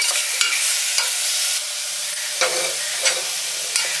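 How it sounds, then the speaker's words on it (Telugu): Mutton pakoda stirred in a pan over a low flame, with a spoon scraping and clacking at intervals over a soft, steady frying sizzle, close and moderately loud. "లో ఫ్లేమ్ లో ముందుకు ఇలా కలపాలి కదా"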